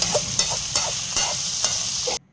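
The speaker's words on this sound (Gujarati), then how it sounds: "ટામેટાને બરાબર એડ કરીને હવે અને બરાબર હલાવી લઈશું" Tomatoes being stirred in a pan while Maggi noodles cook, giving a steady sizzle with a scrape of the spoon about every half second, close and fairly loud, stopping abruptly near the end.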